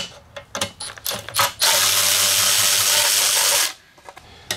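A ratchet wrench works a 3/8 bolt loose on a 1983 John Deere edger: a few sharp clicks and knocks, then a sustained whirring mechanical burst of about two seconds, followed by more light clicks, close up.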